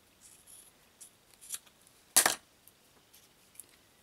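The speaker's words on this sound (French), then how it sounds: "Vous n'avez plus qu'à couper." Scissors snip through yarn to finish a pompom, one sharp crisp cut standing out amid a few faint soft rustles in a quiet room.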